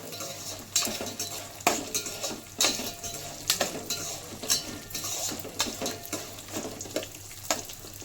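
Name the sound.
tempering seeds and dals frying while stirred in pan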